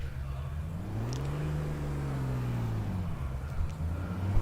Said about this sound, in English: You just know a straight 6 BMW engine is going to sound good